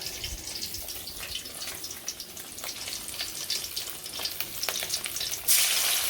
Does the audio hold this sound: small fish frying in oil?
yes